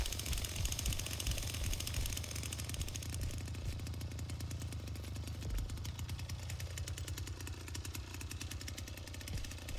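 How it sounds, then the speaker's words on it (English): A chainsaw revs in the Texas Chainsaw Massacre video game, a loud, steady engine drone with a rough, rattling pulse that runs the full length with no talking. "I don't want to stop to rev up the chainsaw every time."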